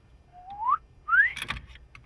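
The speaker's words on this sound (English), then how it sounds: "Give a whistle." During a deer hunt, a person whistles to stop a buck: two short rising whistled notes, close and clear, followed by a brief knock in a quiet outdoor setting.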